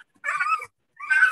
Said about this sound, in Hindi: कुत्ता का बच्चा अभी बोल रहा है इसमें